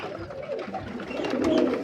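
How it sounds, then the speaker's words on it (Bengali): Pigeons coo softly in a loft at morning feeding, a few low, rolling calls close by over faint background noise in a brief stretch. "এই হচ্ছে অবস্থা সব পায়রা"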